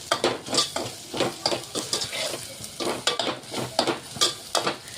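Masala spice paste fries in oil in a pan, with brisk, rhythmic scraping strokes of a stirring spoon over a constant close sizzle.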